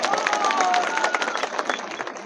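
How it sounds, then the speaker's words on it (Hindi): A crowd at an election rally breaks into applause: dense, steady clapping from many hands fills the whole moment, with some crowd voices mixed in. "जोरदार ताली बजा के इनका स्वागत करें"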